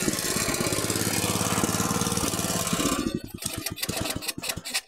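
A VAP 630 motoculteur tiller engine runs loudly and steadily up close after starting, then its rhythm breaks into uneven, sputtering pulses near the end.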